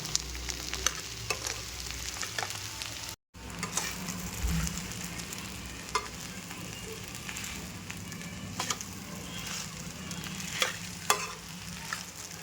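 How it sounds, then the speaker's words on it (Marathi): Sago khichdi being stirred in a pan, a continuous gentle sizzle with frequent scraping and tapping of the spoon against the metal, close and steady throughout with a brief dropout early on, no talking. "आता यात साबुदाणा मिक्स करूयात आणि मिक्स करून घेऊया"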